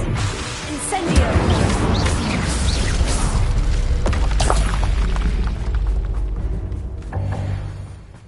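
Spell explosions and magical combat effects in the game Hogwarts Legacy, loud booming blasts, whooshes and crashes layered densely, close and continuous.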